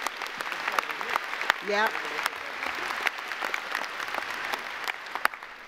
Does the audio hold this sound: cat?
no